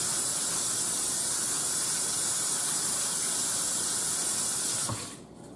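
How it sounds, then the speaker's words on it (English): Water from a kitchen faucet runs steadily as a hand is washed under it, a continuous close hiss and splash that cuts off near the end. "Let me wash this hand."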